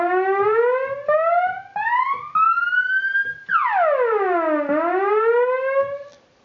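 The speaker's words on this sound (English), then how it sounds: "Turn on the violin there. We have a glide. Turn this up to 10." A Moog Minimoog synthesizer plays a violin voice with glide, its bright, sustained tone sliding up in stepped swoops and then sweeping down and back up, loud and alone.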